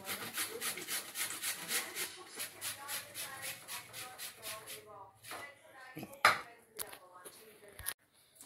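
Potato being grated by hand for dahi vada, a run of quick rhythmic rasping strokes close up that slows and fades, followed by a few scattered knocks and handling sounds.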